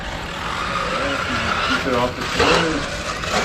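An old-school 1/8 scale two-wheel-drive RC buggy running outdoors, its motor whirring at a steady mid-distance level while people talk over it.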